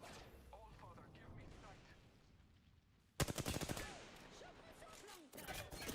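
Rapid automatic gunfire in the Apex Legends video game erupts midway in a dense burst of sharp shots, then resumes after a brief gap, over game ambience and voice chat.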